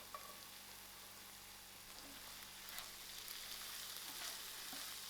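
Paneer and sliced chilies fry in a pan, giving a steady close sizzle with bright crackling spits throughout and no voices.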